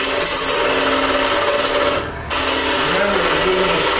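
A roughing gouge roughs out a spindle on a wood lathe, giving loud, continuous chattering and grinding with a brief dip partway through as the tool lifts off, then resumes, close by at a woodturning club demo.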